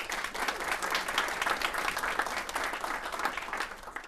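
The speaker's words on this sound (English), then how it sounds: "And also want a big round of applause for Jobin, who is handling all the audio tod" Steady audience applause fills the room at a live tech talk-show taping, many hands clapping evenly at moderate loudness throughout with no one speaking over it.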